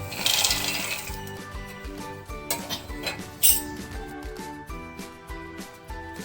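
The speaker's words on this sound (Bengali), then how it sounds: "বাদাম যেটা ফ্রাই করে রেখেছিলাম সেটা এখন আমি মিক্সির জারে দিচ্ছি" Fried peanuts tipped into a mixer grinder jar, scattered light clinks and rattles of nuts striking the jar, close and irregular, with a sharper clatter midway.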